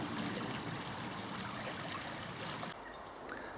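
The River Beane flows steadily along a countryside walking path, a soft, continuous broadband rush of water, faint and unbroken throughout.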